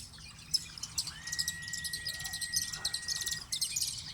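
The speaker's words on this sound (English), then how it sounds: "sounds of the kingfisher birds and the stilt birds, the African open bill, the sounds of the pied crowbirds" Birds call and chirp in rapid, layered bursts over a faint insect hum, with a long thin whistle in the middle; kingfishers, stilts, African openbills and pied crows are among them.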